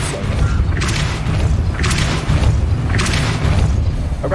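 A Depulso spell effect in Hogwarts Legacy sounds as a heavy mechanical rumble with three booming, grinding surges spaced about a second apart.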